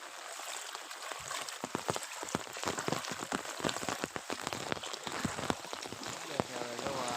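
Heavy rain falls in a village, a loud, continuous rushing wash peppered with sharp drip and splash impacts, with a voice heard faintly beneath it.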